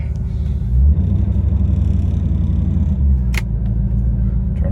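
A 1994 Chevy Corvette Coupe engine runs as the car backs out slowly, a steady, close low rumble that swells slightly near the start, with a brief sharp click partway through and no talking.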